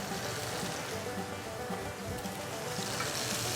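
Cornish game hens brown in a pan with a faint, steady hiss of sizzling fat that carries on without pause.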